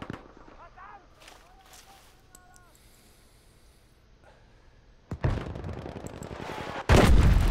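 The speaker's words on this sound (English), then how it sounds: "That was a freaking headshot if I ever seen one." Gunfire in a shooting video game, bursts of shots and blasts heard through game audio, quiet at first and then growing loud and dense toward the end.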